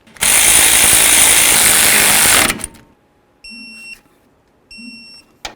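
An impact tool on a Chevy S-10's caliper bracket bolts roars loudly for about two seconds and then stops, followed by two short electronic beep pairs in near-silence.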